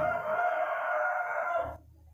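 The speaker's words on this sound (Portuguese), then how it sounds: "O galo vem cantar aqui do lado, parceiro." A rooster crows right next door, one long loud close crow that cuts off abruptly, with no talk over it.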